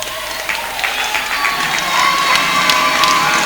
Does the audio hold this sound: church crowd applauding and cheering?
yes